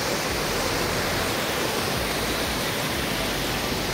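A waterfall rushing right beside a homestay room in Sittong pours out a steady, dense roar of falling water, loud and close, with no voices over it.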